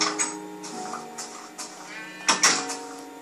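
Sheep bleating on a grassy field, a few wavering harmonic calls rising and falling over about three seconds, fairly close and clear, with no talk over them.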